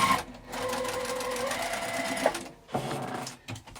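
A sewing machine topstitches a green vinyl zipper makeup bag, running in steady close bursts with a brief pause near the middle and a short stop-start toward the end.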